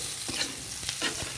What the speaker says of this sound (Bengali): এরপর ভালো মতো নেড়ে নিচ্ছি আমি।